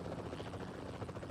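Helicopter in PUBG Mobile: a quiet, steady rotor drone with a rapid pulsing thrum, faint and distant-sounding, no voices over it.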